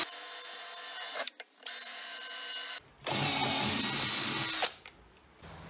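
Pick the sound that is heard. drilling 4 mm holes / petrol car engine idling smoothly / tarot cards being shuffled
drilling 4 mm holes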